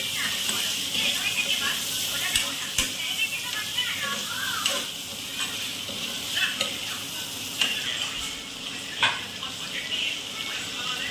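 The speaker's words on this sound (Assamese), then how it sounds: "এয়া চিকেন দি ভাজি থকা হৈছে" Chicken sizzling and crackling in a hot pan, a steady frying hiss with occasional stirring scrapes and a faint voice in the background.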